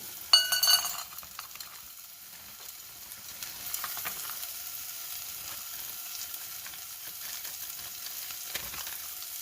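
Four cups of corn tumble into a pot of potato corn chowder in a short, rattling burst at the start, followed by a quieter steady sizzle and light clinks.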